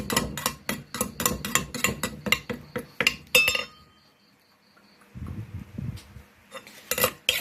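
Food being scooped from a pot into bowls, with rapid repeated clinks and scrapes of a metal ladle or spoon against the pot, then a quiet pause before more clattering.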